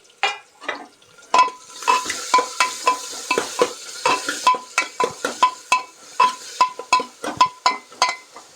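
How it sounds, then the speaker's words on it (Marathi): Chopped onions, two small ones cut large, sautéing in a pan with hing, a spatula scraping and stirring in a steady rhythm over a continuous close sizzle. "कांदा परतून घ्यायचा मस्त आपला कांदा बऱ्यापैकी परतला आहे"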